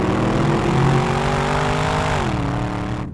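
Walkinshaw's supercharged 6.2 litre LSA V8 revving loudly and close, holding a heavy roar before the pitch drops and the sound cuts off abruptly at the end.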